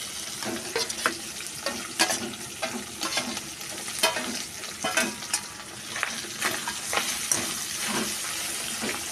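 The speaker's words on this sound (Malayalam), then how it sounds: "നല്ലെണ്ണ ഒഴിച്ചാണ് ഇത് വറുക്കുന്നത്" Beef pieces for a pickle fry in sesame oil, giving a continuous loud sizzle broken by frequent scraping stirs, close to the pan.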